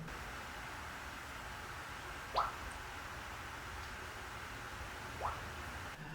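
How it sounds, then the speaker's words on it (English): The upper coolant hose on a 2010 Toyota Camry is squeezed to push out air bubbles, giving two brief, faint squishy gurgles a few seconds apart over a steady background hiss. "I'm also going to press that top coolant hose just to get some of the air bubbles out of there."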